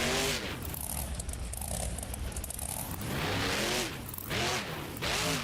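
A monster truck named El Toro revs its engine in the BeamNG video game during a Monster Jam car crush competition, with loud, continuous engine roar and rising and falling rev sweeps, clattering impacts near the end.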